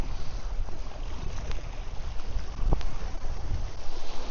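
Strong wind buffets the microphone at a lakeside fishing spot, a steady low rumbling roar with gusty surges and a few faint knocks, no voices.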